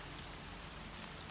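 Steady rain pours in the video game Horizon Zero Dawn: The Frozen Wilds, a soft continuous hiss of drops with no voices over it.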